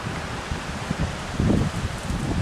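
Wind gusts through trees on an Oklahoma day, a steady broadband rustle of leaves with a slightly stronger surge midway, close to the microphone and without talk.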